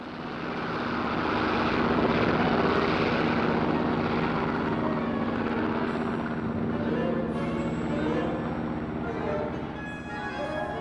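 A WWII-era Junkers Ju-87 Stuka dive bomber drones with a steady, loud propeller-engine roar that swells and holds, dense and continuous throughout with no voices.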